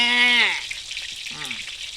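Sweet and sour egg stir-fry sizzles in a hot pan with a dense frying crackle, while brief tonal vocal sounds rise over it.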